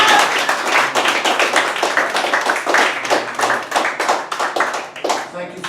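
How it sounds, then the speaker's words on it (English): A comedy club audience in Greenwich Village, New York, claps steadily for several seconds, a dense burst of applause that stays strong before thinning out at the end. "Thank you for your pity applause."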